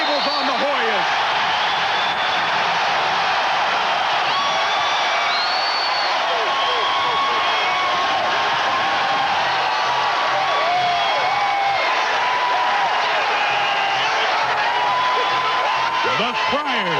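Basketball arena crowd roaring and cheering after a Providence Friars steal by God Shamgod against the Georgetown Hoyas in 1996, a loud sustained wall of noise with whoops, under a commentator's voice.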